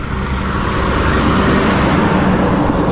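A heavy coal truck rumbles past on a road in southern West Virginia, a loud, broad, steady roar of engine and tire noise that holds for a few seconds without any voices.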